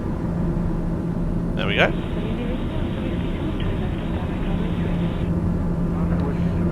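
A light aircraft engine in Microsoft Flight Simulator holds a steady, loud drone as power is advanced for takeoff, with a brief voice over it.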